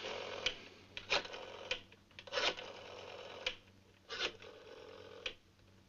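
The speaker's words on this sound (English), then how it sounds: "Now, you dial Dr. France, 33716." An old rotary telephone being dialed, a series of separate whirring and clicking bursts as the dial turns and springs back, close and moderately loud over a faint steady hum, with no talking.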